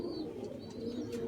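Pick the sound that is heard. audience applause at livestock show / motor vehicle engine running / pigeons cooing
pigeons cooing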